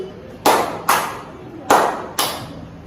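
Students clapping in a classroom counting game: four sharp, separate hand claps in two pairs, each standing out clearly against a quiet room.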